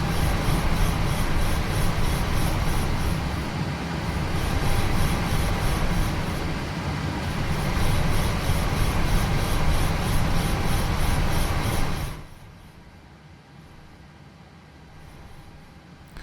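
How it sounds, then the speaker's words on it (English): The trim wheel spins in a PMDG Boeing 737 NGXu cockpit in the Prepar3D flight simulator, giving a fast, rhythmic mechanical clatter against a steady cockpit hum. It runs for about twelve seconds, then stops, leaving a quieter background. "can really nicely hear the trim wheel spinning as you use the trim"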